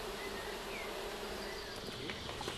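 Dense honeybee buzzing fills a hive honey super, a steady close swarm drone with individual bees whining past over the constant hum.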